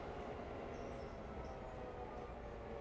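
Diesel locomotive engine in the Railroader railroad video game, a steady, continuous rumble with a faint high whine on top, holding even throughout with no voices.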